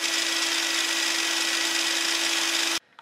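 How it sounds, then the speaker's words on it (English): A miter saw, run through a KB Electronics speed controller, spins at full speed with a steady, loud motor whine and a constant tone for nearly three seconds, then cuts off abruptly to near silence. "we can use this KB Electronics speed controller to control my miter saw"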